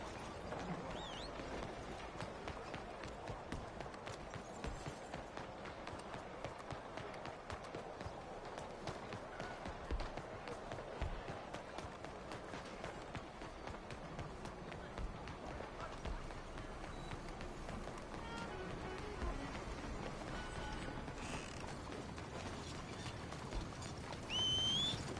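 Horse hooves pound along continuously in a running rhythm in Red Dead Redemption 2, blended with ambient game sounds, moderately quiet and steady.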